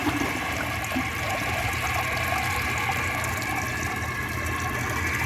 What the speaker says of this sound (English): For some reason the fill valve just decided to go crazy.